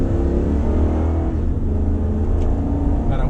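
Rebuilt Ram 2500 pickup truck setting off on a drive: a steady low engine rumble and road drone from inside the cab, continuous and fairly loud, with no talk.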